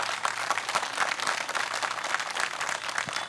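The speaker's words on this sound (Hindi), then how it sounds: "एक बार जोरदार तालियां होनी चाहिए।" A crowd applauding at a political gathering in Purnia, Bihar, dense continuous clapping from many hands filling the whole stretch.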